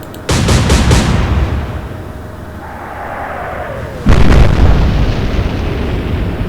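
Booming naval gun salvos and shell explosions in the video game Atlantic Fleet: a loud burst of several quick blasts, a rumbling decay with a faint whistle, then another heavy salvo crashing in and rolling on.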